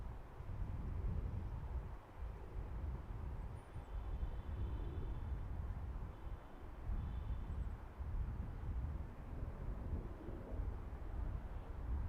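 An arriving airliner from JFK at Salt Lake City International Airport gives a distant, steady low rumble that holds throughout, buffeted by wind noise, with no talking.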